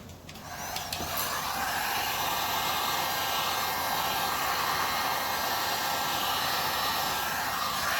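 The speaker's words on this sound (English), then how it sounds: "Now I'm going to hit it with the heat gun." A heat gun blows steadily on ocean-themed resin coasters in silicone molds, a loud, continuous airy roar that starts within the first second and holds unchanged throughout, with no talking.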